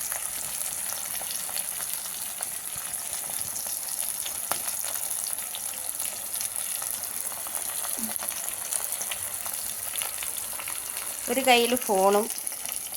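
Fish curry sizzling and bubbling in a pan while being stirred, a steady close frying hiss with soft scraping, someone speaking briefly near the end.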